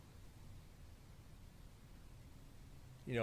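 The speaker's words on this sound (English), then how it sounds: "Seems like we're just getting white noise right now" Steady hiss of white noise static during a nighttime ghost hunt at the Nevada State Prison, faint and continuous, with a brief louder burst at the very end.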